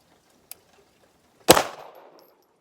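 A single loud pistol shot fired with reloaded ammunition cracks sharply after a faint metallic click, then trails off in a brief echo.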